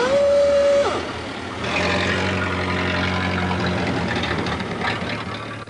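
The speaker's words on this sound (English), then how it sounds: "let the magnificently maintained heart of his car tick over happily at under 100 revs per minute" A vintage Hispano-Suiza car engine idles very slowly at under 100 rpm, a low, steady, even hum close by that follows a brief high tone at the start.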